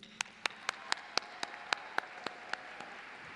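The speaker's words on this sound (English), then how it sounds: "Graduates, if you could please join me in giving a well-deserved round of applause of appreciation for your village, the family, friends," Sparse, evenly spaced single claps at a graduation ceremony, roughly a dozen sharp hand claps over a faint room hush, slow and scattered rather than a full crowd ovation.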